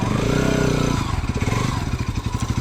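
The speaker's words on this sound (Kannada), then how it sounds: "ಇದು ನಮ್ಮದು ಹೊಸ ಬೈಕ್ ದಸರಾ ಹಬ್ಬಕ್ಕೆ ತೊಗೊಂಡಿದ್ದು" Engine note of a new motorcycle on a ride to a mother's home, a steady low drone that shifts into a rapid pulsing putter partway through, close and fairly loud, with no talking.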